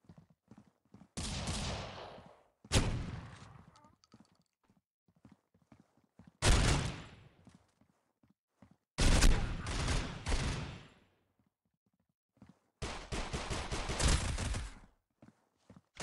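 SA 58 rifle fire in the Critical Ops shooter game during a ranked match rings out as five loud, separate bursts of rapid automatic shots, each lasting about a second, with near silence between them.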